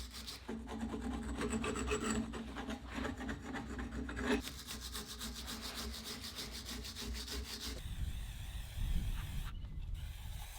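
Rust being scrubbed off the outside of a car's CV joint before fitting a new CV boot: steady, close rasping strokes of brushing against metal, continuous and fairly loud, with the rhythm shifting partway through.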